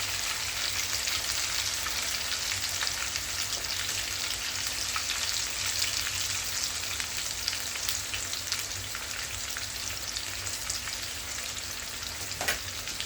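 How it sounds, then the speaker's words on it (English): Food fries steadily in a pan during a Jamaican-style home cooking session, a continuous close crackling sizzle with faint pops throughout and a single sharp tap near the end; no talking. "let that fry off"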